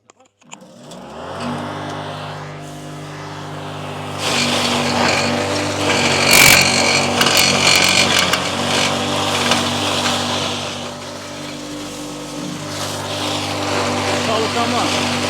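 A universal crusher machine's motor starts and runs loud and close, a steady droning whine that rises in intensity midway and holds, with a brief louder burst and people talking over it.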